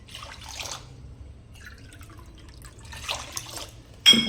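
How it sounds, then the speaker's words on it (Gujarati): Water is poured into whisked curd for kadhi, heard as a few brief splashing, dripping bursts close by with quiet gaps between them and a sharper splash at the end. "એ વાટકીના ત્રણ ગણું આપણે પાણી ઉમેરી દેવાનું"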